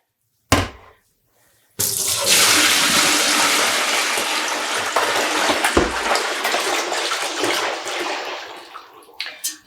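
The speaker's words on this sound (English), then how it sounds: "Just going to pour out this water." Rinse water from a yarn-dyeing pot pours out in a loud, steady splashing gush into a sink for several seconds, following a brief clatter, with no voices.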